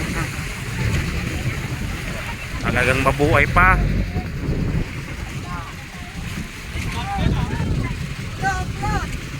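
Strong sea waves wash around a boat close to shore, a steady loud rush with wind buffeting the microphone while people talk over it.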